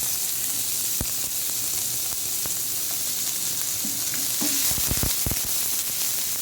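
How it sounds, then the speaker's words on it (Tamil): Onions frying in hot oil with mustard seeds and urad dal for Chettinad kara kuzhi paniyaram, a steady close sizzle with a few sharp pops and crackles, no voices. "எண்ணெய் ஊற்றிட்டு கடுகு உளுந்து கடுகு உளுந்து நல்லா பொரிஞ்சதும் வெங்காயத்தை போட்டுக்கலாம்"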